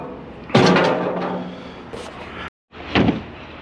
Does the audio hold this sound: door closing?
yes